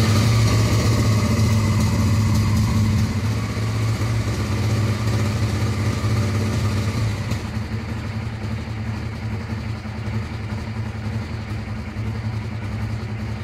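A Honda Transalp motorcycle engine idles steadily after an ignition (CDI) module swap, a close, continuous rumble lasting the whole stretch, with a slight shift in tone about halfway through.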